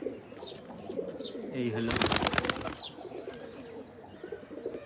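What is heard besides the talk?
Giribaz pigeons cooing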